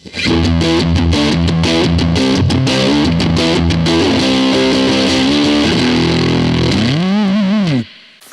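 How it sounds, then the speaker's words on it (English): Electric guitar played through a Boss-style metal distortion pedal modelled in AmpliTube 5, a loud, saturated heavy riff of chugging chords and sustained notes that ends in a bending, wavering tone before cutting off. "The metal distortion, that's like an old Boss classic"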